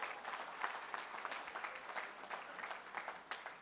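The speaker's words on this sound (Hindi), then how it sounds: "बहुत जोरदार तालियों से इनका स्वागत करें।" Enthusiastic applause from an audience welcoming two hosts at a speech event in Khamgaon, a dense, steady wash of clapping that continues evenly throughout without any speaking.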